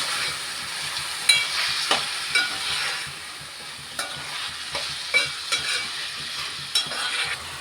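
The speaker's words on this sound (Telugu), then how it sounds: "దొండకాయ ముక్కలు కూడా చికెన్తో పాటు వేసేసుకుందాం ఇప్పుడు ఈ రెండు కలిపేసుకుందాం" Chicken and ivy gourd pieces sizzle in a hot pan while being stirred together, a steady frying hiss broken by repeated scraping knocks of the spoon, close and continuous with no talking.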